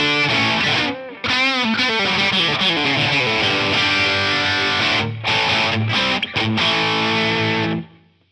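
A heavily distorted electric guitar through a Line 6 Helix amp model with no effects plays sustained chords and riffs, thick and saturated, with a couple of brief breaks before ringing out at the end.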